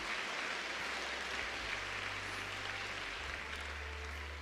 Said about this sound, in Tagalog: Nakasan niyo yung palakpak niya, no?